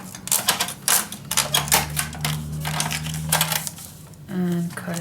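Paper for a scrapbook mini album is scored with a tool: a rapid series of close, crisp clicks and scratchy strokes, followed by a short clatter near the end.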